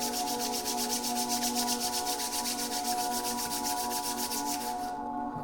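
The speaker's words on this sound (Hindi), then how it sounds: "जोर से रब करें।" Both hands rubbed together vigorously at the close of a guided meditation, a loud, continuous rhythmic swishing friction that pulses steadily for several seconds over a soft background hum, then cuts off.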